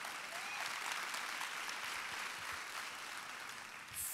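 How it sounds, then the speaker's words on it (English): An audience at the Dallas ISD school district convocation claps steadily throughout, a dense even applause heard from within the hall, fairly faint and without voices. "Yeah, that's worthy of applause."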